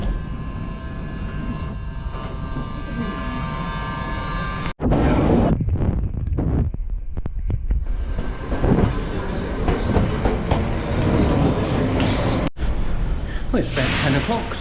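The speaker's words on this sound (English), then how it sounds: "So there's a train coming in." A London Underground tube train pulls into the platform at Acton Town, a loud continuous rumble with rising and falling mechanical noise, brakes and hiss building as it arrives, close by with voices talking over it.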